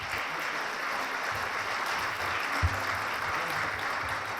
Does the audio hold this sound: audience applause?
yes